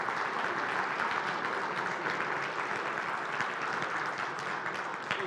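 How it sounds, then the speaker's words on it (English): A lecture audience gives a big round of applause thanking a guest speaker after a talk on the Hamas-Israel war; even, sustained clapping from a sizable crowd, somewhat distant and continuous throughout. "we have enough time to give him a big round of applause"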